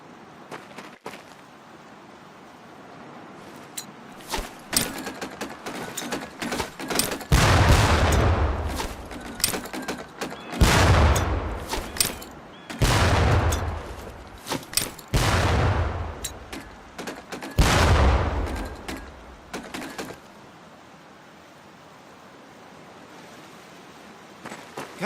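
Training grenades explode against barrels in the video game Medal of Honor, four or five heavy, booming blasts a few seconds apart, each with a long rumbling tail over background noise.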